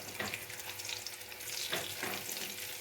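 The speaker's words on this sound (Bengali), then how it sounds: "এখানে পটলগুলো ভেজে নিচ্ছি" Slices of pointed gourd (potol) frying in hot oil in a home kitchen, a steady close sizzle with a few stirring scrapes and brief louder crackles.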